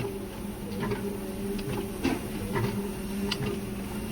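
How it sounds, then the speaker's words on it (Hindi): A heavy-duty motorized pad printing machine runs with a steady mechanical drone and periodic clunks and clicks from its stroke cycle, close and continuous. "मशीन को मैंने चालू करता हूं।"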